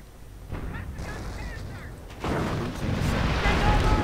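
Anti-tank guns and artillery fire in a World War II strategy game battle: a low rumbling barrage with booms and whistling shells that grows louder and denser partway through.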